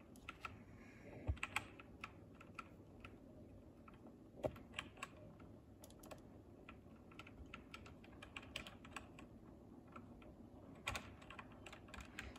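Computer keyboard typing during a SnowRunner truck game session: a quiet, uneven run of light key clicks and taps throughout, with occasional louder single presses over faint background hum.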